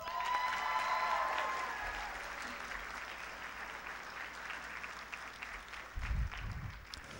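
Graduation ceremony audience applauding, a broad, steady wash of clapping with some crowd noise that slowly fades, heard from within the room.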